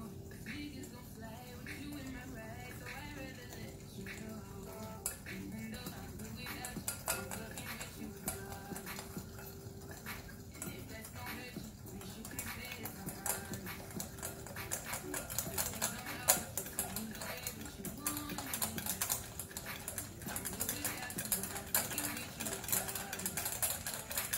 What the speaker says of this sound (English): while I'm whisking, I'm gonna very slowly add just a little bit of hot cream at a time.